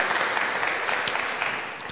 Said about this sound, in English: You can go ahead and clap if you want to.